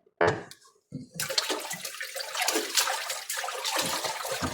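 Tap water runs steadily into a kitchen sink while raw chicken is washed for chicken soup, a brief splash first and then a continuous loud rushing stream.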